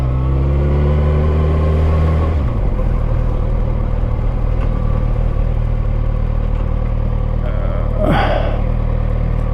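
A 2014 Kawasaki ZX-6R 636 supersport motorcycle engine roars loud and close, with a droning rev that falls back to a steady low rumble and a brief whooshing rise near the end.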